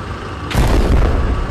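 A rocket launcher explosion in the video game Plants at War: one sudden loud boom that bursts over steady background noise and rumbles away over about a second.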